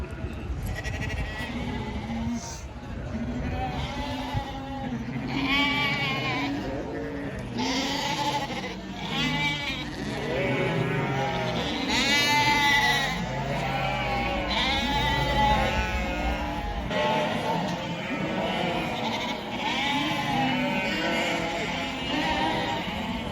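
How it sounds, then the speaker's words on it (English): Strong, heavy sheep bleat repeatedly through shearing and wool packing, several overlapping calls near and far, with some faint talk and farm activity in the background. "They're quite strong, heavy sheep"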